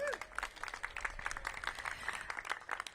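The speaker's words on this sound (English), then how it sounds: "So give Polly a big round of applause." Audience at a mayoral housing investment announcement giving a round of applause, moderately faint, steady clapping from a crowd throughout the short span.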